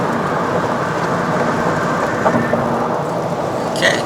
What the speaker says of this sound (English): Rain all the way up.